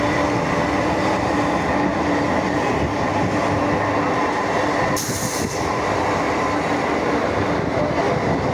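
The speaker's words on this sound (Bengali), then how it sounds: "এই দেখো ট্রেনটা এবার গ্যালোপিং হচ্ছে আগরপাড়া দিয়ে" A train rumbles through Agarpara at speed, a loud, steady, continuous roar of wheels and carriages close by, with a brief hissing burst midway.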